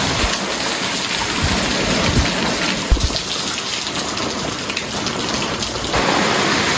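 Heavy rain pours steadily outdoors during the rainy season in Nigeria, a dense, constant hiss of drops with low rumbles of thunder rolling beneath it.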